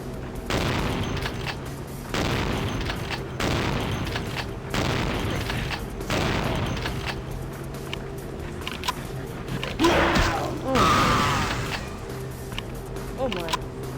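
Gunfire in Vampire: The Masquerade - Bloodlines, a run of loud booming shots in bursts about every second or two, heavy and close, with a sharper crack near the end amid game ambience.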